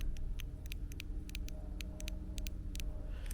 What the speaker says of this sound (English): These ratchets are 180 tooth ratchets, which means they're a very fine tooth ratchet.